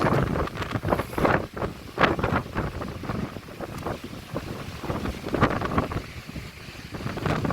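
Strong wind buffets the microphone on the summit of Mt. Kearsarge, loud and gusty, with irregular rumbling blasts that rise and fall throughout.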